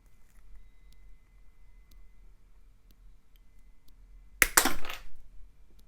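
A single sharp snip as pin headers are cut off during an Amiga 3000 rescue repair, a sudden close crack followed by a short scattering rattle of the piece landing, in an otherwise quiet room.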